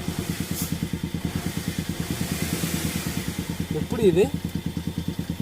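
A car that broke down in a forest at midnight is running again, its engine idling in an even, throbbing pulse close by while a person speaks briefly over it.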